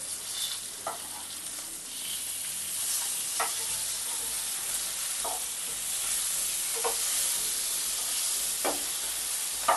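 Steady sizzling of fish frying in oil in a frying pan, a continuous bright hiss with occasional soft clicks of a utensil, close and fairly loud throughout.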